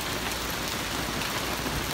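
Hail falling in Los Angeles, California, a dense, steady hiss of pellets striking surfaces, loud and continuous throughout with no voices.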